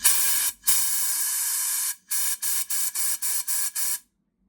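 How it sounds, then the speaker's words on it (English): Compressed air hisses from an air gun blown through a tube during a CB Performance 2017cc engine build, one long blast followed by a rapid series of short bursts, loud and close with no talk. "we're just going to blow some air down. So the end of my air gun over the hole in the end of the tube"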